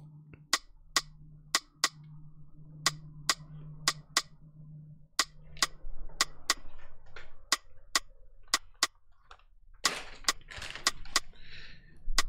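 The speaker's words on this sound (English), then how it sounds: "Very basic rim shots. Just find a basic rim shots." Sharp, dry rim shot clicks in a basic Afrosoul beat pattern, evenly spaced and repeating, with a low hum early on and a burst of noisier percussion near the end.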